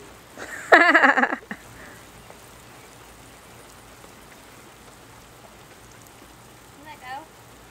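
A garden sprinkler sprays water over a backyard, giving a steady soft hiss throughout, with a brief loud shout near the start and faint voices later.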